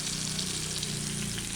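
Chopped ingredients fry in leftover oil from tuna fish pickle, a continuous loud hissing sizzle with a steady low hum beneath, brief and unbroken, no voices.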